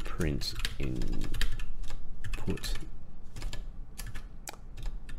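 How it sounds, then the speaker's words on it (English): Rapid clicking on a computer keyboard while Python code is entered, irregular keystrokes running throughout beneath a man's nearby speech. "My typing generally isn't this bad, honestly."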